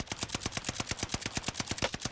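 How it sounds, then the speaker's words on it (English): Rapid automatic gunfire in the video game Warzone, a loud, close, steady stream of about twenty evenly spaced shots with no pauses. "Oh, you should have stopped shooting."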